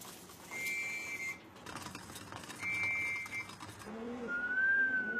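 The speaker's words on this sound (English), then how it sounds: "the sound of Tai's main training tool, the whistle, signaling it's time to return home" A pigeon training whistle sounds in three clear tones against a quiet outdoor background, the last one longer and slightly rising.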